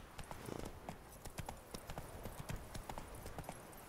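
Rapid, rhythmic clip-clop of horse hooves trotting in The Witcher 3: Wild Hunt, fairly quiet and steady throughout.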